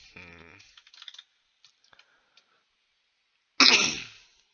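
A short throat clearing followed by light clicks and taps, then a louder harsh rasping clear of the throat near the end.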